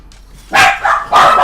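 NCR guard dogs in Fallout: New Vegas give two sharp, close, loud barks about half a second apart, with a faint yip just before them and no talk.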